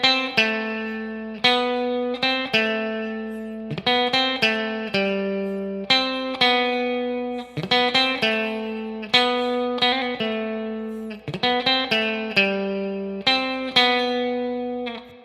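A riff played slowly on a distorted electric guitar, heard alone: steady chugging palm-muted notes broken by repeated picked phrases with short gaps between sections.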